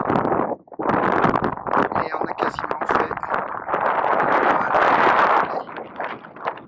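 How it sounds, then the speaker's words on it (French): Heavy wind buffets the microphone in loud, gusty rumbles at the summit of a slag heap near Charleroi, Belgium, while someone speaks briefly in French through the roar. "Beaucoup de vent ici au sommet."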